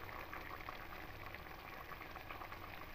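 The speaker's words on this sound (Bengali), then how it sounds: "এবার ঝোলটা ফুটে এসেছে" Mustard fish curry gravy bubbles in a pan, a faint steady simmer of soft popping and liquid burbling with no other sound.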